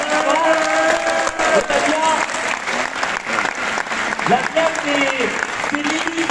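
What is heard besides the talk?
applause at political rally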